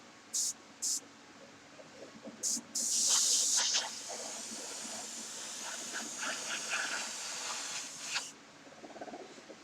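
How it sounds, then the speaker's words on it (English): Airbrush blowing plain air to dry paint on a Merkava Mk III tank model: two short hissing puffs, then a longer steady hiss lasting several seconds before cutting off, close and moderately loud. "Sometimes I'm only blowing air to dry, to help the paint dry"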